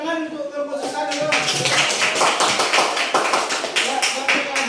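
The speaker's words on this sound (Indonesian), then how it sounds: "kita tepuk tangan untuk kelompok sesat dulu." An audience in a classroom claps for a student group, a burst of scattered clapping from many hands, with voices talking underneath.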